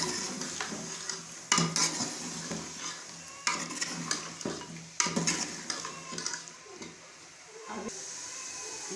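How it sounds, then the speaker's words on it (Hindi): Tomatoes go into a pot of cooking meat for achar gosht, with stirring scrapes, spoon knocks against the pot and a soft sizzle running throughout, with sharper clatters now and then. "अब इसमें टमाटर डाल रही हूँ।"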